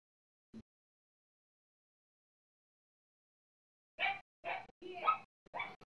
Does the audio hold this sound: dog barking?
yes